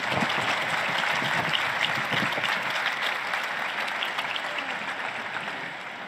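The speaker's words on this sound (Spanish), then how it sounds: "Un aplauso para la nueva beata." A papal general audience crowd bursts into sustained applause for a new beata, a dense, steady wash of clapping from a large gathering that tapers gently toward the end.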